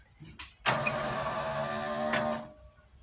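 A car's power window motor whirs steadily for about two seconds, close and clear, with a short click and brief motor burst just before it and a shift in pitch partway through as the direction reverses.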